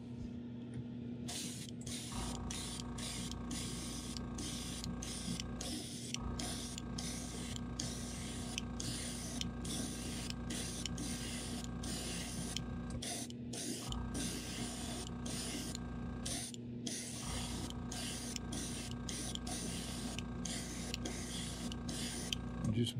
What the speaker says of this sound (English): We'll spray it a little thicker on this last coat.